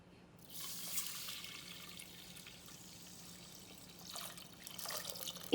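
About 2.5 liters of water pours into a cooking pot for congee in a home kitchen, a soft, steady hissing stream that swells toward the end, quiet and alone.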